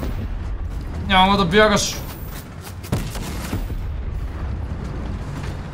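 Gunfire in the Fortnite video game: a few sharp, distant shots crack out beneath someone talking in Bulgarian, amid mechanical clicks and steady game background noise.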